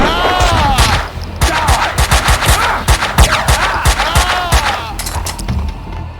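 Rapid, loud gunshots in Max Payne, dense bursts of automatic fire with ringing shell casings, near and continuous with brief pauses, a voice heard among them.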